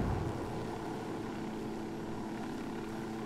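A helicopter in Ghost Recon Wildlands drones with a steady rotor and engine hum, loud and close throughout, with no speech.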